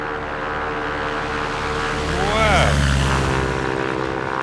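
Cessna 172 propeller engine droning steadily in the X-Plane 11 flight simulator, a continuous close hum with a gliding pitch sweep and swell in loudness near the middle.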